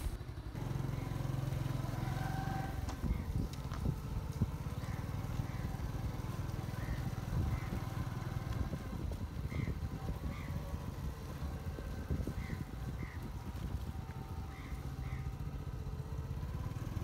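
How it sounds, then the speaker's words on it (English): A motorbike riding along a road near Thanlyin, Yangon, Myanmar, its engine a steady close rumble with road clatter and wind throughout, a few faint chirping tones appearing over the noise. "Let's ride on the motorbike and go back."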